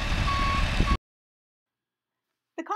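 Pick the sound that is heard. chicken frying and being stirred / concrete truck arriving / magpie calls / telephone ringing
concrete truck arriving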